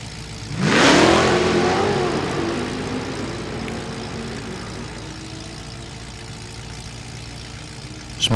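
A nitrous-fed drag racing car launches with a loud roaring rev that peaks early, then fades into a long receding engine drone at a drag strip, with a brief burst at the very end.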